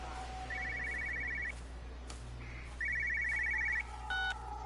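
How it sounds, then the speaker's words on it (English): A cell phone rings in the video game Everybody's Gone to the Rapture, two bursts of a trilling electronic ring separated by a pause, then a short chirp, heard clearly over a low steady hum with no talk. "Your cell phone ringing."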